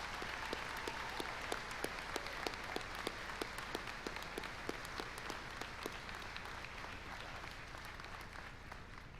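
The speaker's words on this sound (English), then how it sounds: "Please give these graduates another round of applause." A crowd claps for graduates at a 2019 high school graduation ceremony in the Huntingdon Area School District, a steady, fairly distant round of applause with individual claps standing out and no talk.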